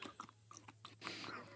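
Cashews being chewed close to the microphone, a few soft crunchy bites and mouth sounds in quick succession over a steady low hum, with a louder crunch near the end.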